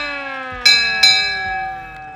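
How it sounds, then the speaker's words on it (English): Two ringing strikes of a 1927 fire engine's bell, a beat apart, each with a long shimmering decay over a steady fading tone, indoors. "course, the bell."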